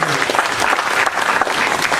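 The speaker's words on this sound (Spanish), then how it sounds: "para quien pedimos un fuerte aplauso" An audience at a forum on governance, social inclusion and economic development applauds a speaker, a full, steady burst of many hands clapping together.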